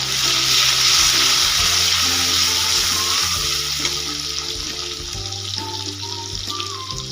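Vegetables including capsicum and tomato fry in a pan for egg Maggi, giving a constant loud sizzle with occasional soft stirring scrapes and knocks, and no voices.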